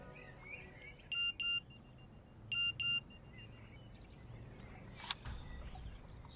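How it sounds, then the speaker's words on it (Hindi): A phone message notification sounds as two short double beeps, each a pair of clear electronic tones, set against a quiet, hissy room background. "गौरी का मैसेज है"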